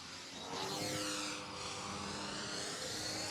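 An E-flite Turbo Timber Evo 1.5 m RC airplane flies close by, its electric motor whining steadily and sweeping in pitch as it passes.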